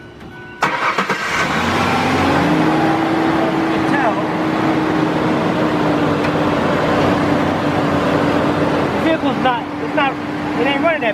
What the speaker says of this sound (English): Alright, I'm going to start the vehicle up.